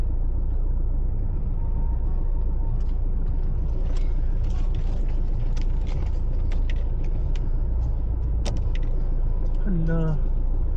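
Road traffic from inside a vehicle during a festival outing, with a steady low engine and road rumble throughout, scattered clicks and knocks, and a brief rising tone near the end; no talk.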